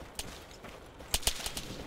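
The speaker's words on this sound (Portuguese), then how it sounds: "Olha aí, tá levando tiro." Gunfire in the Arma 3 video game, with a few scattered sharp cracks followed by a tight burst of rapid shots, fairly faint over a quiet background.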